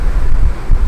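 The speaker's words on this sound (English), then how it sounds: "I also have a fan beside me which is blowing air straight into the microphone" An electric fan blows air straight into a microphone, making a steady, loud, rumbling wind buffet with low-end gusts for under a second and no talking.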